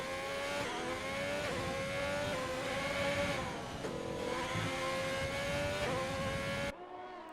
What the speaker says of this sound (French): ça s'entend au régime moteur, ça s'entend au bruit que ça fait que ça glisse